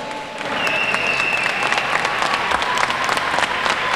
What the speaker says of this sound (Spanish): Vamos a darle un fuerte aplauso a ambos contendores.